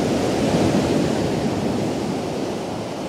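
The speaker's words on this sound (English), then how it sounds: "Got some pretty big waves coming." Big ocean waves surge onto Rialto Beach on the Olympic Peninsula in Washington, a loud, continuous roar of surf that eases slightly toward the end, with no one talking.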